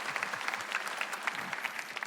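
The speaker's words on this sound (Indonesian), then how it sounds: "Ya, kita tepuk tangan bagi Tuhan kita." A church congregation claps together during a sermon, a dense patter of many hands heard from some distance, fairly soft and continuous with no voices over it.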